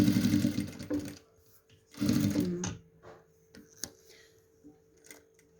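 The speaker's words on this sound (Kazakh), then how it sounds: "Енді екі көк лента тігіп жатырмыз." A sewing machine stitches two blue ribbons onto a patchwork quilt, running in two short close-up bursts with a pause between them and faint ticks and clicks in the quiet gaps.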